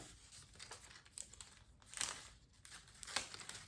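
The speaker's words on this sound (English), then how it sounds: "I'm gonna tape it right here" Adhesive tape crinkles and tears faintly close by as small pieces are pressed onto a paper Moon Festival lantern, in a few soft bursts.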